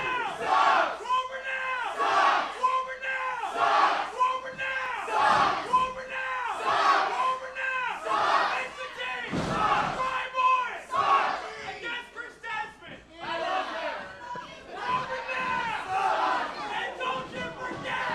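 A Paulsboro wrestling crowd loudly chants "World Renowned Sucks" during a six-man tag team match, the many voices striking in a clear repeating rhythm, strong and close, with short gaps between the phrases.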